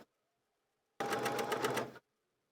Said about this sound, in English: We'll sink the needle down just to make sure we're where we need to be, and then go ahead and stitch